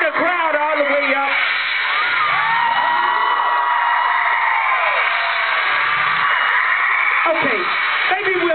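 A large concert crowd at a Six Flags show keeps up loud, sustained cheering and whooping, a dense wall of yells that swells and holds without a break.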